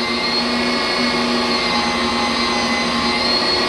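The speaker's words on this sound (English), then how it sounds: "old grinder, y'all. She's slow but steady like Coco." An old meat grinder runs steadily while grinding wild hog meat into sausage, giving a loud, continuous mechanical whir with a constant tone and no pauses.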